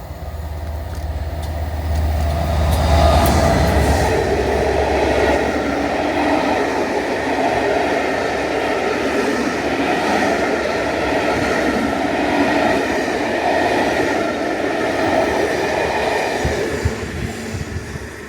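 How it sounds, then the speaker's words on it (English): Pullman train topped and tailed by Class 67 diesel locomotives passes through a ScotRail station toward Edinburgh Waverley, running empty stock: a loud, sustained rumble with diesel engine drone and rolling wheel noise, swelling early then holding steady before easing off. "the top and tail Class 67 diesel locomotives on a Pullman train heading towards Edinburgh Waverley"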